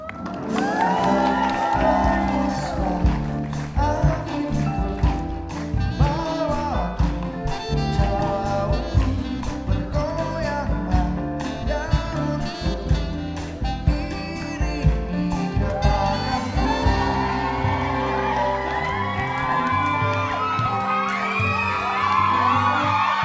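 A television studio audience on an Indonesian reality talk show shouts, whoops and cheers loudly and continuously, a dense roar of excited voices with shrill individual yells rising above it throughout.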